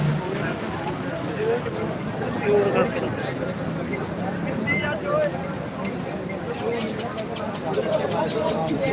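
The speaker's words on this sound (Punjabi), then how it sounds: "ਚੱਲ ਪਿਆ ਬਾਈ ਬੰਸੇ ਵਾਲਾ ਖੱਬਲ ਪੱਟਾਂ ਦਾ ਟਰੈਕਟਰ" A low tractor engine rumbles steadily throughout at a trolley-pulling competition, with crowd noise and voices mixed in.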